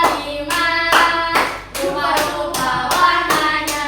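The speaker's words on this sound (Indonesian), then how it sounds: "Tepuk tangan dulu" A few hands clap in a steady, rhythmic beat for about four seconds in a maths class, loud and close, with a melodic tone ringing behind the claps and no talk.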